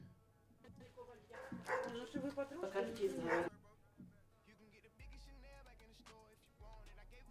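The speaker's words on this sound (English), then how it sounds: "because the dog's barking is kind of loud" A dog barks loudly in a quick run of close, sharp barks over a couple of seconds, followed by quieter sounds and a low hum.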